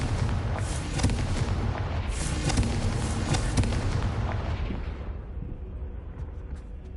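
Confringo fire spell explosions in Hogwarts Legacy, a loud rumbling blast with crackling bursts that holds for several seconds and then fades into a quieter low roar.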